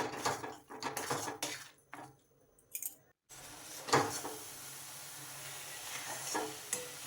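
Carrots with turmeric and salt are stirred in a pan over very low heat. A utensil scrapes and clinks intermittently against the pan over a faint, quiet sizzle, close by and with no talking.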